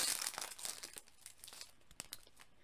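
A Pokémon Battle Styles booster pack torn open by hand, close crinkling foil and a ripping tear, followed by softer rustles and a few sharper crackles.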